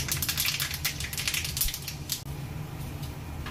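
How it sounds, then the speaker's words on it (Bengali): Mustard seeds splutter in hot oil for a fish curry tempering, with a dense, crackling patter of small pops, moderately quiet and continuous over a low background hum. "এবার পাশে তেল গরম করে ফোড়নে সর্ষে ফোড়ন দিলাম"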